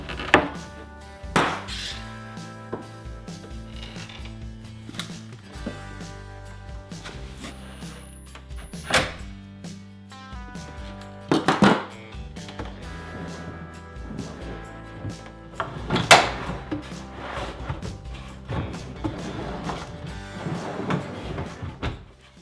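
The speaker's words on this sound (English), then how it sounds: "attach the drawer front with 4 screws" A wooden drawer front being clamped and screwed onto a kitchen pantry cabinet: scattered knocks, taps and wooden clunks, with short bursts of driver or screw noise at irregular intervals, close up in a quiet workshop.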